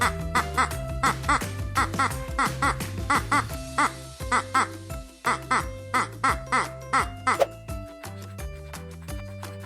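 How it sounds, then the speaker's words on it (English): A rapid series of nasal, rhythmic quacks repeats over a bouncy musical backing, loud and close, like a cartoon duck. "Duck."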